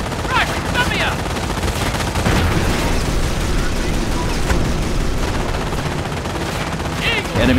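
Rapid gunfire and machine-gun bursts crackle through a Company of Heroes battle during the Normandy invasion, loud and continuous, with soldiers' voices shouting over the fighting.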